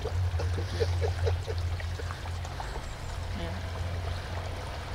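Water flowing in a circle through a sphere harmony installation in Davos spa park, a steady trickling, pouring murmur at moderate distance with a low hum beneath and faint voices.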